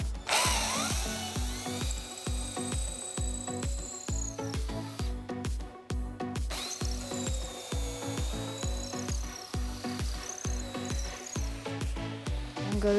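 A power drill bores into a wooden deck post with a steady, loud whining drone that pulses rhythmically as the bit bites into the wood, running continuously with a short break midway.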